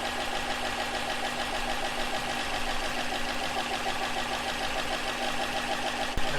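A Spintron valve train test machine runs steadily with a dense mechanical whir and rapid valve clatter, close and continuous at constant speed, a sharp click near the end and no talking.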